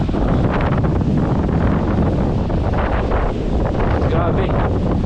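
Powerful gusts ahead of a coming storm batter the microphone at an outdoor boatbuilding site as trees sway, a loud, steady roaring buffeting that never lets up.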